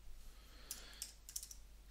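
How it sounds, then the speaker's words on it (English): Typing on a computer keyboard while writing a citation, a few quiet scattered key clicks in irregular bursts over a faint low hum. "we can start typing our alternative citation"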